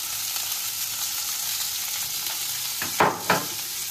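Cauliflower florets fry steadily in hot oil in a pan, a dense, even sizzle close by, broken near the end by two brief bursts of stirring or turning; no voices.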